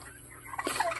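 A turkey gobbles in a short, rapid burst of warbling calls, close by, rising in loudness toward the end.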